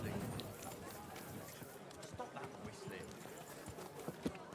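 Rhythmic hoof clip-clop of a running horse in Kingdom Come: Deliverance II, fairly close, mixed with game ambience and some talking over it.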